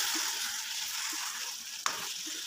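Tomato and mutton liver cooking in oil in a pan, a steady close sizzle and frying hiss with one brief clatter of stirring partway through.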